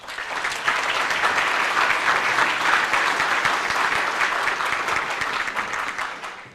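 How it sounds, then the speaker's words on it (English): A large audience at a Columbia Economic Development Corporation annual meeting applauds to welcome its president and CEO, with steady, dense clapping that holds for several seconds before tapering off. "please welcome him with a warm round of applause"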